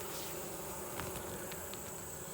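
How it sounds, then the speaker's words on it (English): Honeybees buzzing steadily around a queen cage inside a hive, a dense, faint, continuous drone heard close with no voices. "There was a bee in there, which I unfortunately killed, taking the candy plug out"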